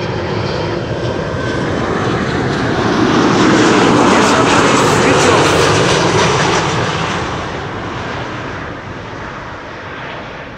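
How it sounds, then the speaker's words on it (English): A Norwegian airliner arriving from Copenhagen roars past in a loud, broad engine rush that builds to a peak midway and then fades as it moves off, heard alone without talk. "This is Norwegian, also arriving from Copenhagen."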